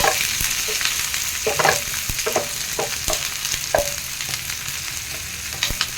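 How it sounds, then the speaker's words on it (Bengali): Chopped onions and cumin seeds frying in a pan, a continuous close sizzle broken by scattered scrapes and light knocks of a stirring spoon. "এটাতে জিরা ফোড়ন দেব, দিয়ে কাটা পেঁয়াজগুলো দিয়ে দেব। 5 মিনিট দিয়ে ভাজবো এটাকে।"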